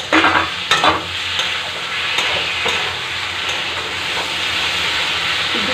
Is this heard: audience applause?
no